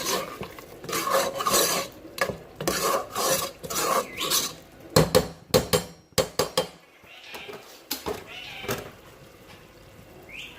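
A spoon scraping and rubbing inside a metal pot while salt is mixed into biryani, repeated rasping strokes with clinks, moderately close, the motions coming in uneven bursts.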